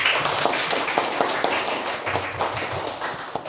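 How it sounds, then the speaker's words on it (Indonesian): Hands clap in a classroom, a run of sharp, fairly regular claps from a small group over a bright, noisy background, with no clear talking. "Oke, tepuk tangan."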